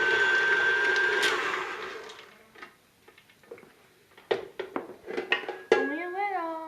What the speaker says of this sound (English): Then we'll mix it again to get it softened more.